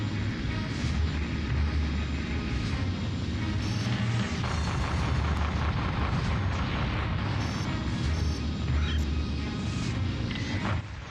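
Explosions in the space combat video game Colony Wars: a dense, continuous roar of blasts and rumbling booms with engine-like drone, loud and unbroken throughout.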